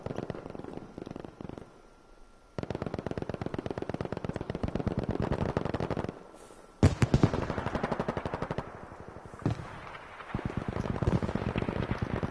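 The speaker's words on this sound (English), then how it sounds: "Rifle grenades being used here." Rifle grenades and rapid automatic gunfire in a competitive first-person shooter match, loud close bursts of shots broken by brief pauses, with sharp blasts standing out.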